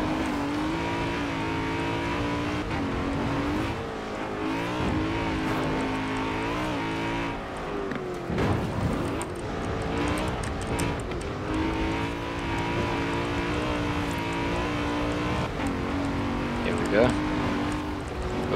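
A 2011 BMW X5 M in stock form driving in Forza Horizon 4, its engine droning and rising and falling in pitch as it revs and shifts, loud and steady with someone talking over it.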